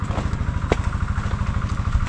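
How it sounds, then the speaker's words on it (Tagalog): A belt-driven water pump engine runs on a farm during irrigation, idling with a fast, even low chug and pulsing throb, close and steady with a single sharp knock partway through. "medyo malambot yung andar ng makina"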